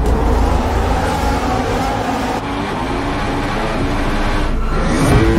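Formula One cars race past in a dense, loud roar of high-revving engines that holds steady and then shifts as the cars sweep by, with no voices.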